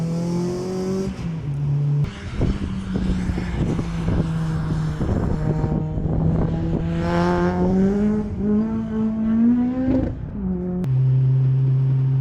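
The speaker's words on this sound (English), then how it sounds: "Little bit of tyre squeal." A supercharged Honda Civic Type R engine drones loudly and close, shifting pitch as it works through a track corner, with the tyres squealing faintly under the engine note; no talk is heard.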